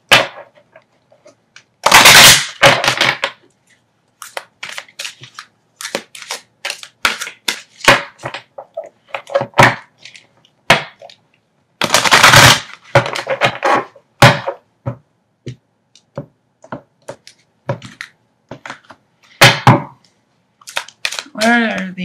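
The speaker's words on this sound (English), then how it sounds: "I gotta shuffle it better than that because I put those back on top." Tarot cards shuffled by hand during a love reading, giving sharp irregular bursts of riffling and snapping cards with quiet gaps between, close and fairly loud.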